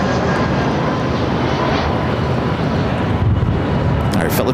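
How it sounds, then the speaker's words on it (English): A Philippine Airlines Boeing 777-300ER taxis at LAX, its engines making a loud, continuous broadband roar close by, with some wind buffeting the microphone. "Philippine, flight 113, the 777 at 300 ER, now making its way over to 24 left."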